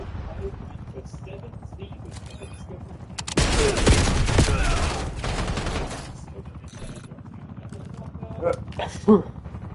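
Heavy automatic gunfire in the shooter Call of Duty Black Ops 7, a dense sustained burst of loud rapid shots for several seconds, followed by scattered quieter shots and sharp pops amid game voice callouts and background battle noise.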